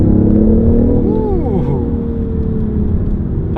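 BMW i8 hybrid sports car accelerating in sport mode with a synthetic engine sound, a steady droning hum with brief swooping tones, close and moderately loud.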